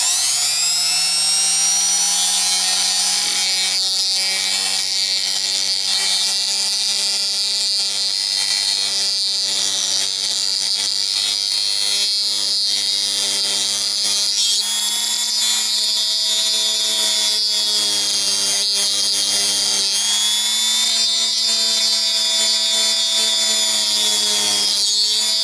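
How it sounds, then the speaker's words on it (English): A handheld rotary tool cuts into a 1/12-scale ECX Barrage RC truck near its servo, a loud, high, continuous whine that holds for the whole stretch with slight pitch shifts. No one talks over it. "So I got my rotary tool here, put a little piece of paper kind of blocking the servo."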